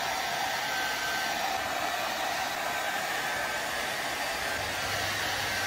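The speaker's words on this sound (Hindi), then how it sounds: "ये अपना हेयर ड्रायर।" A hair dryer blows steadily and loudly throughout, a continuous airy whoosh with a faint motor whine that never pauses.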